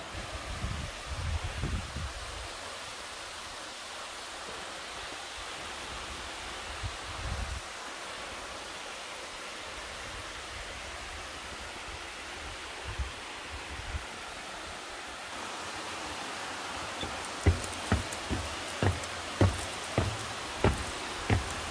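A mountain valley stream on Seoraksan rushes along in a soft, steady wash, fairly faint, joined in the latter part by scattered light knocks and rustles close to the microphone.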